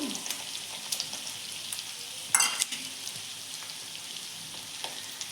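Potatoes and peanuts sizzle and fry in a pan for batata poha, a steady crackle with soft spoon scrapes and one louder stir clatter midway, close and unaccompanied by talk.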